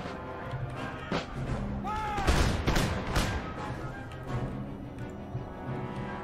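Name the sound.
musket volley fire in Empire: Total War video game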